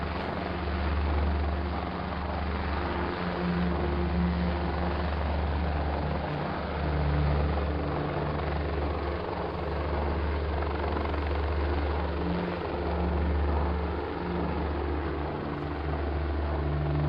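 Helicopter flying over Rendlesham Forest, a steady loud rotor thrum with rhythmic low pulsing and broad engine roar held throughout, no voices.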